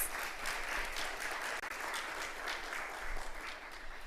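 Audience applause fills a hall at the Caribbean Broadcasting Union's 53rd general assembly after a performance by the Tobago Performing Arts Company, a steady dense clapping throughout with no talk.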